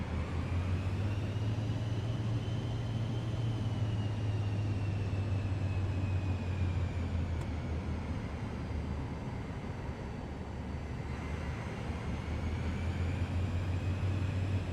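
A Cirrus Vision Jet SF50 in MSFS 2024 taxiing on the ground, its jet engine giving a steady, loud whine and rumble with a constant low drone throughout.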